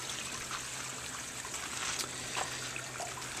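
Water trickling from a big tank into an aquaponics system in a garden center, a steady close hiss-like flow with faint splashes, no talk.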